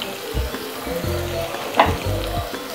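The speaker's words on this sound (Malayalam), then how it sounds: "നന്നായിട്ടൊന്ന് വഴറ്റിയെടുക്കാം." Dried red chillies and curry leaves sautéing in oil in a pan for dal curry, a close, lively sizzle with stirring scrapes and clinks of a spoon against the pan.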